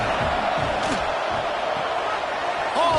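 A stadium crowd in a college football video game, Auburn against Texas, gives a steady roar with faint whoops rising over it. Sustained and dense, close and fairly loud throughout.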